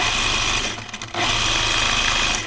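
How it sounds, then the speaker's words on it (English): Sewing machine stitches across a coat in a loud, steady fast whir, briefly dipping for a moment before running on evenly, with no voices. "So I'm going to sew across here"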